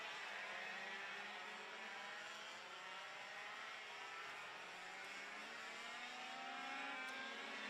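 Distant 100cc racing karts at a CKR Euro Grand Prix heat for pre-1995 karts drone continuously around a circuit hairpin, their faint engines overlapping in a steady, slowly shifting whine.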